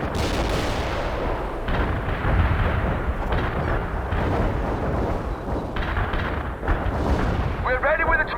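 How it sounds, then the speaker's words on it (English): Heavy artillery firing in the real-time strategy game World in Conflict: deep booming blasts and rumbling impacts roll on continuously, loud and close, with occasional radio-style voices over the barrage. "Artillery here, command heavy artillery firing."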